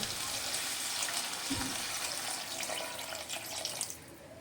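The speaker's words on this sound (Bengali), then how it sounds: "এবার আমি এর মধ্যে দিয়ে দেব বেশ পরিমাণে জল" Water poured generously into a pan of spiced dry fish curry with taro and potato, a continuous splashing pour with a brief low knock partway through, fairly close.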